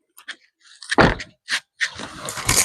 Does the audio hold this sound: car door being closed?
yes